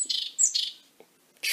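A wild bird gives a series of short, bright chirps and squeaky calls in quick irregular bursts, close and clear, with one last chirp after a short pause and no voices.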